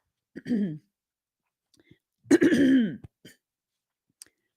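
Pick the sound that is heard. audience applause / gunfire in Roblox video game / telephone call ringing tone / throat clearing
throat clearing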